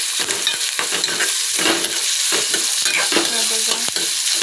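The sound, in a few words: onion being stirred and frying in a pan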